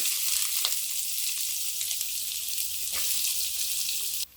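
Sliced onions frying in hot oil for an egg dum biryani give a steady, close sizzle with soft crackle throughout, a couple of brief stirring scrapes breaking through before it cuts off abruptly.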